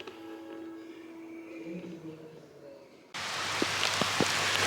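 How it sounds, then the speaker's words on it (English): Pouring rain at Lincoln's birthplace bursts in abruptly as a loud, steady hiss with a few sharp drips, following a quieter stretch of faint tonal sound. "it is pouring down rain."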